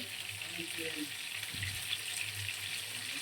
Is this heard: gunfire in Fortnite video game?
no